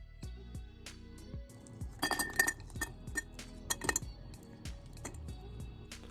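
Glassware clinks and chinks while iced coffee is made with coffee ice cubes, with scattered sharp taps and a busier cluster of clinks midway, fairly quiet and close.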